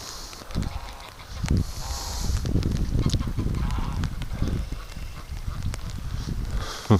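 Several geese honk in short, repeated calls over a steady outdoor farm background, one on a compost pile with ducks nearby, fairly close and moderately loud.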